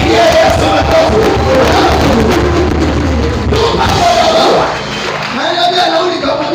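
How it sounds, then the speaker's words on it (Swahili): A church congregation breaks into loud, dense applause and crowd noise that fills the space, then fades slightly toward the end. "Pigia Yesu makofi."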